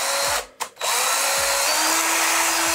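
A power drill drives a rusty screw held on a magnetic bit, a loud steady high-pitched whine running almost the whole time with one brief stop and restart near the start.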